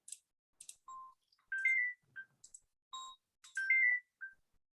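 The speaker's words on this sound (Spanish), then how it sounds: "está sonando el teléfono" A phone ringtone plays alone, a bright electronic melody of short tonal beeps and chirps repeating in quick phrases, clear and close with no talk.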